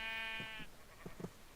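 A Minecraft sheep is struck in the game and lets out a short blocky bleat. A few soft muffled thumps and taps follow at a quiet level, with no voices over them.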